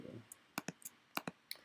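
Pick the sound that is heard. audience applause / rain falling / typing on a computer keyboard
typing on a computer keyboard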